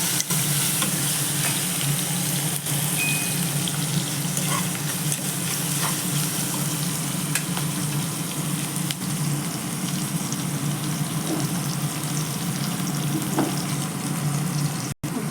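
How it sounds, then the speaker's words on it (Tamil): Onion, green chilies and curry leaves sauté in hot oil for an egg gravy, giving a steady, dense sizzle and fry hiss with occasional stirring scrapes, close and continuous throughout. "கூடவே ஒரு கட்டு கருவேப்பிலை போட்டு நல்லா எண்ணெயில் வதக்கி விட்டுருவேன்"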